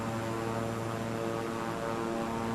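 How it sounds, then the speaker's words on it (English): A propeller airplane engine in a flight simulator video game drones in a loud, steady hum with layered tonal harmonics, constant and unbroken with no talk. "Please do not crash the plane, autopilot."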